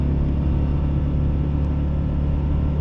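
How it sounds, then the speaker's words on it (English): A steady, loud motorcycle engine drone from a Husqvarna Norden 901 Expedition revving, with a low rumble, held at a constant pitch throughout, no speech. "I'm revving it out a little bit"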